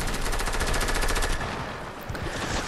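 Rapid automatic gunfire in Fortnite during a trick-shot challenge, a dense, loud, close burst of shots that runs almost without a break for the whole stretch.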